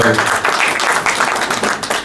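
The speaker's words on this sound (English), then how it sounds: "That deserves a big round of applause." An audience at a Sunny Leone poster launch press conference claps for a couple of seconds, a loud, dense clapping with some voices mixed in before it cuts off abruptly.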